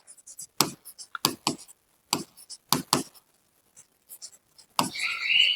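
Writing on a board during a trigonometry lesson, a run of sharp close taps and scratchy strokes in irregular bursts with quiet gaps, ending in a longer scraping stroke.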